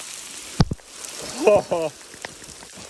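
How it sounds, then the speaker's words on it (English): Rain falls in the Australian bush at sundown, a steady, soft hiss of drops on foliage and ground. Someone talks and exclaims over it, and a couple of sharp knocks stand out. "time to get out of this rain"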